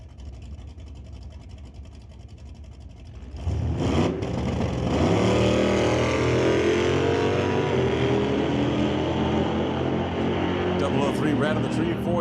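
Two drag racing cars, one a Datsun, stage side by side: a low idle gives way to a sudden loud surge of engine roar that holds strong and close while a voice talks over it.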